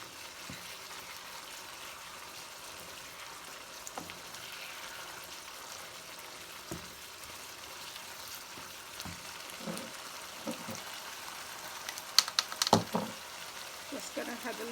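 Beef patty filling with soy sauce and browning cooks down in a pan, a faint steady sizzle with small pops and occasional clinks, speech present at times.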